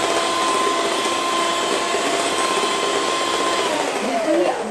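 An electric hand beater whisks eggs and sugar into a fluffy mixture, giving a steady, loud whirring drone that holds throughout and shifts slightly in pitch near the end.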